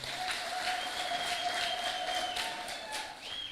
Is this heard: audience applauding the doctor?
yes